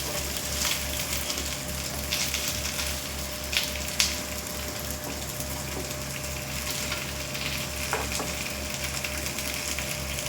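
Fish frying in a pan, a constant close sizzle with scattered crackles and light scraping taps, a faint low hum beneath, and no talking.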